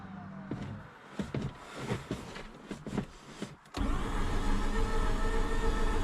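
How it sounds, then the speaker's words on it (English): Starter of a 2004 Mazda RX8 with a 13B rotary engine that won't start cranks hard, a loud steady whirring that cuts in about midway after a few seconds of quieter clicks and shuffling. "The starter's spinning strong"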